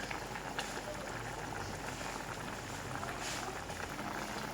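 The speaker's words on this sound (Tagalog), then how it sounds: "kumukulo na siya" Vegetables bubble steadily in a pot, a soft continuous simmering hiss with faint popping, close and quiet, with no talking.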